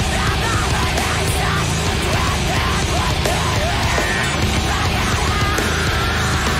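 A 5-string bass converted to a 7-string guitar and tuned to drop A an octave down plays in a dense, loud, continuous band mix with heavy low end and no gaps throughout.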